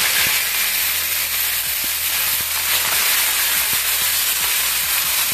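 Banana stem (thor) fries in hot spiced oil in a pan, giving a steady, loud, close sizzling hiss that goes on without a break.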